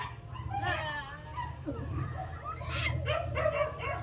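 A dog barks and yips a few times at a moderate distance over a low background hum, with whimpering notes in between.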